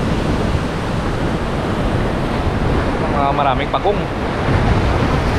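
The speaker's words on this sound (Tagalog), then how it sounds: "Medyo mataas yung alon ngayon dito." Loud surf and high waves wash continuously along a seaside fishing spot, mixed with wind buffeting the microphone, while someone speaks briefly partway through.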